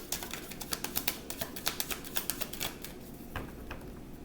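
A tarot deck being shuffled gives a quick run of soft, crisp card taps and riffles in an irregular rhythm, close by and quiet, with no talking.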